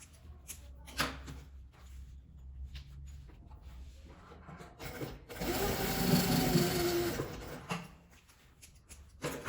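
Sewing machine stitching a half-moon zipper pouch, fabric placed right sides together; a soft hum of steady needle rattle builds in the middle and stops, with light handling noises before and after.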